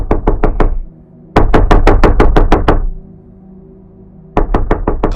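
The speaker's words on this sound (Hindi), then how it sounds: "वह दरवाजा नहीं खोलता, लेकिन दस्तक की आवाज और तेज हो जाती है।" Loud, rapid knocking on a door comes in three urgent bursts of sharp raps, a brief pause between each, close and forceful in a tense horror-story scene.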